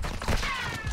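Gunfire from a window shot in a Modern Warfare 2 Ground War match with bots: a short, dense burst of loud game weapon sound with a steady mid-range tone running through it.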